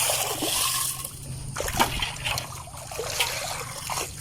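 Water from a water pump hose splashing and trickling nearby, a steady low pump hum under irregular splashes, without talk.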